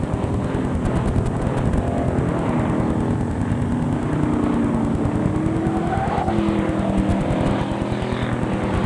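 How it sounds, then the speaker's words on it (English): Race car sliding around a corner on a dirt track, a loud continuous engine roar with a steady buzzing drone throughout, close and uninterrupted. "that almost looked like Daryl's corner touched number 17 sliding around there"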